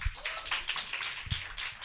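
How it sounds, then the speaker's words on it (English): An audience at a marketing conference claps for the speakers, a brief, moderately distant patter of applause in a large room. "Let's give a round of applause to all the speakers so far."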